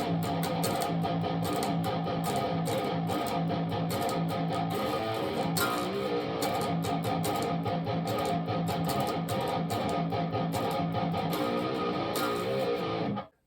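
A distorted electric guitar plays a riff at a slow, steady pace, loud and continuous, with no voices.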